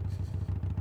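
A Harley-Davidson Forty-Eight motorcycle rumbles while being ridden, its low, throbbing V-twin pulse pounding close and steady in a brief burst.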